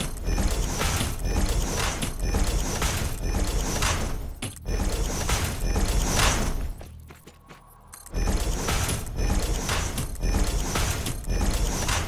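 Machines being placed in the factory-building game Satisfactory, loud rhythmic mechanical clanking and ratcheting in dense repeated bursts, briefly dropping out midway before resuming.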